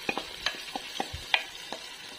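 Marinated native chicken and its marinade added to a pan of wilted tomatoes, heard as scattered soft clicks and clatters over a faint, quiet sizzle.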